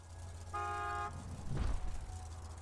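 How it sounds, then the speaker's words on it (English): A single steady car horn blast, held about half a second, then a dull thump and rustle over a low engine rumble. "Just drive up and honk your horn."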